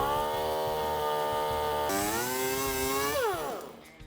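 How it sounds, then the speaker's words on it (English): A cutoff wheel grinds a small notch into a bracket under a Jeep Wrangler JK, close to the brake line: a loud, steady, high whine that shifts pitch under load, then spins down and fades near the end. "cutoff wheel and make a small notch, making sure not to touch the brake line"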